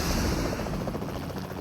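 Helicopter in the mobile battle royale game PUBG Mobile, a steady low rotor chop and engine drone holding loud and close for the full moment with no pauses.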